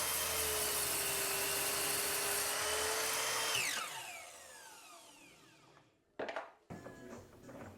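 A power tool whines steadily as it trims the wooden legs of a thrifted nightstand, then winds down and fades, followed by a few short clunks and scrapes.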